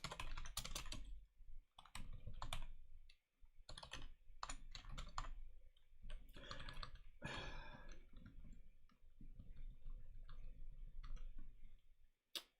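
Quiet, close keystrokes on a computer keyboard while code is typed during a live coding session, irregular clusters of taps separated by short pauses, no talking.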